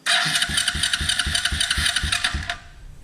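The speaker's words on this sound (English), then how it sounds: "here goes the first hit of the starter" An ATV engine's electric starter cranks in a quick, steady chugging rhythm for about two and a half seconds, loud and close, then cuts off abruptly.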